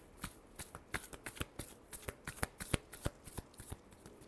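Tarot cards riffle-shuffled close up, a rapid run of crisp papery flutters and snaps repeating steadily for several seconds, with no voices.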